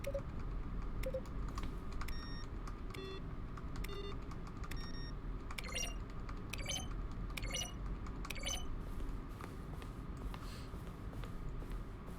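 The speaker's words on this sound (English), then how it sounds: "Selection of sounds used throughout the game when buttons are pressed. Each sound is a mix of keyboard stroke and synthesized tone." Button-press sounds from the video game Underhero, each a keyboard keystroke blended with a short synthesized tone, play as a series of separate clicks and bright beeps over a steady background hum, with no talking.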